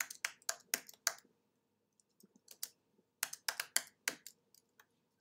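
Bursts of quick keystrokes on a computer keyboard as a caption is typed, clustered in short runs with brief pauses between, close and fairly quiet with no talking.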